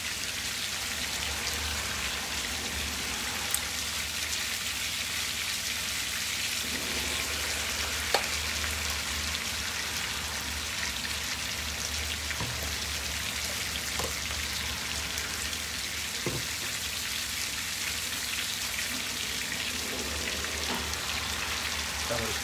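Olive oil heats in a pot on the stove and gives a steady, dense sizzle and crackle, with a few sharper clicks and ticks scattered through.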